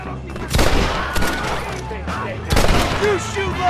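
Gunfire in the Western video game Red Dead Redemption: loud rapid shots and bursts cracking through a busy firefight, with voices shouting over the shooting.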